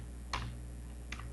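Two separate key presses on a computer keyboard, each a crisp close click, roughly three-quarters of a second apart, over a faint steady hum.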